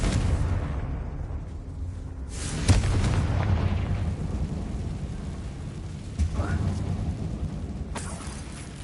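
A Confringo fire spell in the Hogwarts Legacy video game bursts in a dim tomb, with a dull boom near three seconds and another softer impact around six seconds over a low rumbling game ambience.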